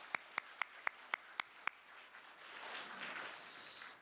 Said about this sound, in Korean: 우리 성가대도 한번 박수로 격려하겠습니다